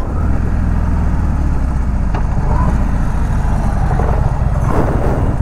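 A Harley Davidson Low Rider 103 motorcycle with its engine running: a loud, close, continuous low rumble with a slight rattle and a shaky throb, the mechanical noise steady throughout.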